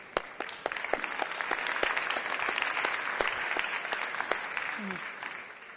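Audience applause at a UNESCO discussion on reinventing learning, a dense sustained clapping from a large hall with sharp individual claps standing out, lasting several seconds at steady volume.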